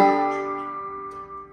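Banjo note run through a standard spring reverb on a Strymon Blue Sky pedal, a single plucked sound that rings and slowly decays with a faint reverberant wash, close and quiet.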